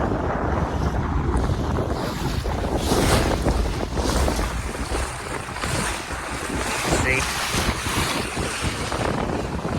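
A boat cuts across the shallow sea off Yanbu, Saudi Arabia, heard from its bow. A loud, steady rush of wind buffets the microphone over churning water and waves, continuous for the whole stretch with no talk.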